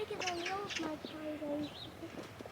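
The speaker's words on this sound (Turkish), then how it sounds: "çok da güzel kuşlar var bakın burada" Birds chirp and whistle outdoors on a nature walk, giving short tonal calls and one rising whistle, with people talking throughout.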